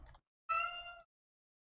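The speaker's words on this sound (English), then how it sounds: "My cat's yelling at me." A house cat lets out one clear, drawn-out meow at close range. Short muffled thumps come just before and just after it in an otherwise quiet room.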